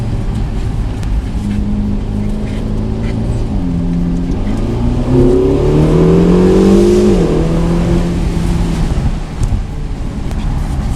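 Sports car engine revving loudly close up, rising through the gears with a climbing, rasping tone in the middle and then easing off, heard alone with no voices.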